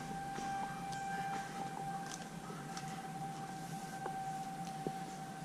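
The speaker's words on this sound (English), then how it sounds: "all sirens within a 20-mile radius, I believe. 10 or 20-mile radius of the nuclear plant get tested quarterly to make sure they're still working" A civil defense siren sounds during a quarterly test near a nuclear plant. It drones steadily and faintly from far off, under outdoor ambience with scattered faint knocks.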